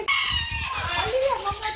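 Small chicken clucking in a bird aviary in Bangalore, a few short close calls over a busy background of other birds and a voice talking.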